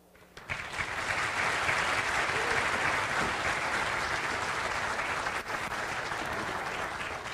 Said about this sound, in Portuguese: eu gostaria que vocês recebessem com uma salva de palmas cada uma das pessoas que eu vou falar agora